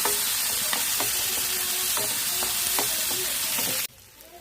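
Onions and tomato pieces frying in a pan for fish curry, giving a constant loud sizzle with regular scraping stirs, then an abrupt cut to near silence at the end.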